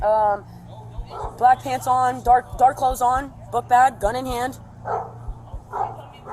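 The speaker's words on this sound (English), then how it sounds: "That's my dog barking." A dog barks several times close by in a home, sharp repeated barks mixed with yips under and between continuous talking voices.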